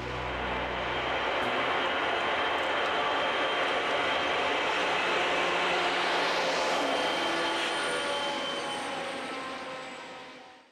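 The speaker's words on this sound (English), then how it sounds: "See a great mix of manifest freight and intermodal trains in many scenic locations." A Conrail freight train, part of a mix of manifest and intermodal traffic, passes as a loud, continuous broadband rumble and roar that holds for about ten seconds before easing slightly at the end.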